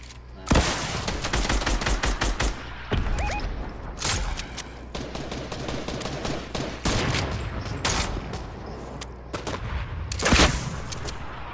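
Fortnite gunfire with rapid bursts of shots from several weapons, sharp repeated cracks and short automatic volleys that trade back and forth, loud and close, with brief gaps between flurries.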